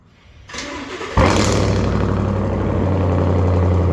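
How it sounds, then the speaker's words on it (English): A truck engine cold starts indoors: a starter cranks briefly, the engine catches with a loud burst, then settles into a steady, fast idle that holds to the end with no voices. "let's get a cold start of the truck"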